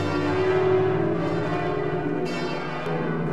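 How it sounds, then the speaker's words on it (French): The church bells of Saint-Laurent ring out with sustained, resonant tolls that overlap into a shimmering wash, loud and steady with a brighter strike near the end. "les cloches de Saint-Laurent répondent"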